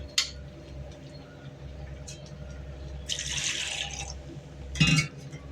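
Water sloshes and swirls inside a mixer grinder jar being rinsed, in a couple of short bursts, with a clatter at the end and quiet background between.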